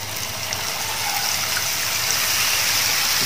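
Boondi batter for homemade laddu is poured through a sieve, producing a steady, loud, broadband hiss that runs unbroken for the whole moment.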